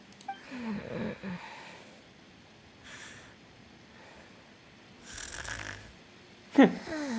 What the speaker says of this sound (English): She snores, man.